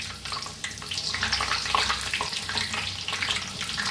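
Spinach pakoras (palak pakode) fry in hot oil with a steady, dense crackling sizzle, close and moderately loud throughout, with no talking.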